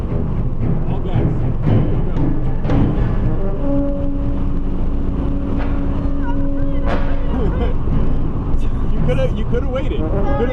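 An Audi A3 e-tron accelerating hard at full throttle on a race track, a steady loud drone of engine and road noise under continuous close talk from an instructor.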